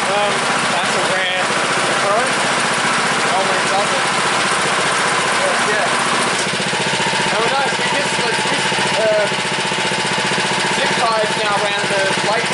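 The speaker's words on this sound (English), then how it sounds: "So if you fire up" A Honda HRU216M1 lawn mower idles after a cold start, its small petrol engine running loud and continuous close by, with a voice talking over the steady rumble.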